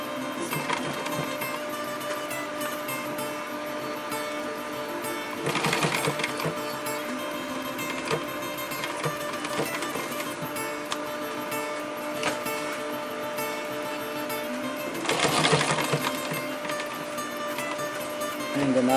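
Sewing machine stitching a row along a folded fabric EDC organizer pouch, a continuous fast mechanical whirr that swells briefly twice, steady and close.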